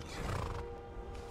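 A horse in the video game Skyrim gives a short, moderately loud neigh, a single whinny over steady background game ambience.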